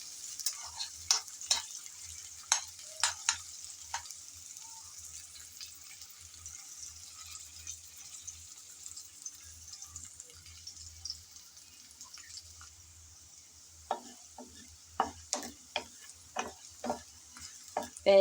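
Onion, chili and garlic fry in a pan with a steady bright hiss of oil, broken by sharp clicks of a spatula against the pan. The clicks come in loose clusters, close up, with no talk.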